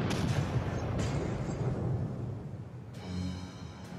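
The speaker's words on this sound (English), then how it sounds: "The guards would have heard that, you know, the giant explosion." A booming explosion in the video game Skyborn, a loud blast with a long rumbling, crackling decay fading over several seconds, followed by a few sharp game effect hits.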